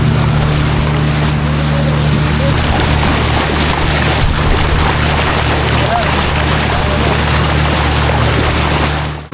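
Sea at high tide on a beach at Malvan in Sindhudurg, Konkan coast: a loud, steady wash of surf and wind fills the whole stretch, with a low constant hum running underneath.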